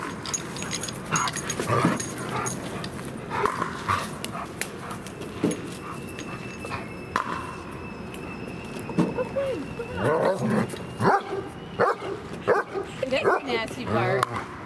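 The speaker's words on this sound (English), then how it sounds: "Bark." German Shepherds at a rescue bark and whimper in irregular bursts, some close and loud, mixed with growly vocalizing, while people talk throughout.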